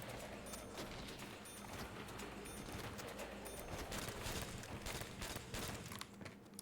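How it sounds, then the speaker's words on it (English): Rapid carbine gunfire in a shooter video game, dense repeated cracks forming a continuous loud barrage with no pause, no talk heard. "now it takes 3 shots to take him down with the carbine"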